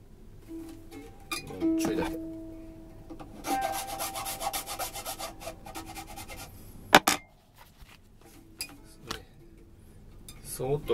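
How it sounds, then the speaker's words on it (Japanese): A file rasps across the plastic nut slots of a Flying Tiger ukulele in slow intermittent strokes, with light clinks and someone talking at times. "さああと2つ、2弦と1弦も削っちゃいます。"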